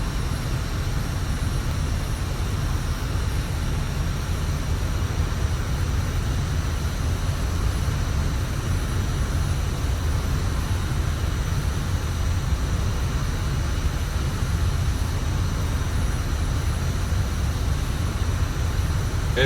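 Jet engine of an MB339 trainer in simulated low-level flight at about 300 knots, a steady loud broadband roar with heavy low rumble, constant throughout with no pauses.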